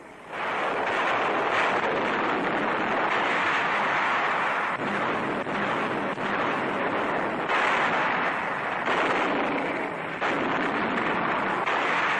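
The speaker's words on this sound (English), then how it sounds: "Some bearing artillery and rocket guns already opening fire." Artillery and rocket guns firing from landing barges approaching shore in 1944 D-Day wartime newsreel footage, a dense, continuous roar with rolling bursts sustained loudly throughout, no speech.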